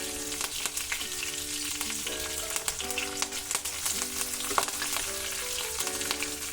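Curry leaves tossed into hot oil with mustard seeds and cumin crackle and sizzle loudly and continuously, with popping seeds and occasional stirring scrapes close by, no voice over it.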